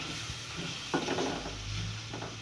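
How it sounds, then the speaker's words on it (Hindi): A spoon stirs tomatoes into masala in a pan, giving a short scraping sweep over a soft sizzle, close and alone. "और इसे डालकर भी मैं मिक्स कर दूँगी मसाले में बहुत अच्छी तरह।"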